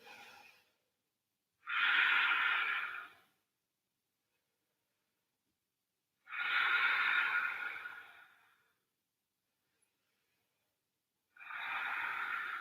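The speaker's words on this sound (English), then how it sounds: "And deep breathing." Deep, slow breaths during a yoga session, three long airy exhales spaced several seconds apart with silence between, close and alone.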